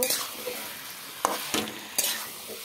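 Spices stirred into vegetables in a frying pan for a potato, aubergine and katla fish dish: a steady sizzle with a few sharp scrapes of a spoon against the pan.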